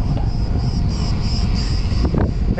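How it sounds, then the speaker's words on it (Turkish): Headwind roars steadily across a road cyclist's microphone on a Çeşme Gran Fondo course, a loud continuous low rumble with an insect-like high whine above. "Ve kafadan rüzgar geliyor şu anda"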